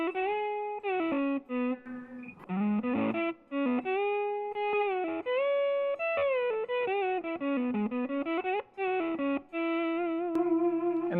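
An electric guitar runs through a DOD Rubberneck delay pedal set to 8th-note subdivision, playing a melodic line with distorted tone as each note repeats in quick echoes, fairly faint and alone.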